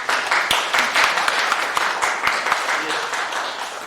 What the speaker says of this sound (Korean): 학견 선생님께 박수 한번 좀 보내주시겠습니다.